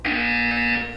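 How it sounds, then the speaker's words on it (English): A loud, harsh buzzer from the video game Portal 2 blares continuously for about a second, steady and alone, then starts to trail off at the end. "You will hear a buzzer."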